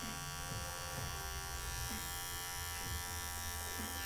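Electric hair clippers with a number 2 guard blend hair during a high fade, a close, steady buzz that holds unbroken throughout.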